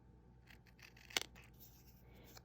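Scissors snip through the paper wrapper of a Pixy Stix treat in one sharp, close cut, with faint rustling of the paper before and after in a quiet room.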